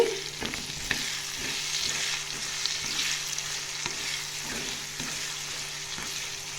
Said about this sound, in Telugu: ఒక హాఫ్ టీ స్పూన్ పసుపు వేసుకొని కలుపుకోవాలండి